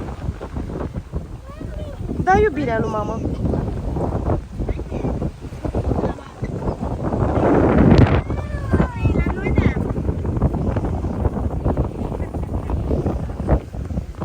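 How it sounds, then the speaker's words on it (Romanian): Wind gusting against the microphone by a rough, choppy sea on a cold beach, a steady broadband rush with surges, under someone speaking to a child. "Și bate vântul. Uite și tu cât e de agitată marea."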